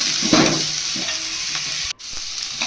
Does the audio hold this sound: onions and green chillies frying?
yes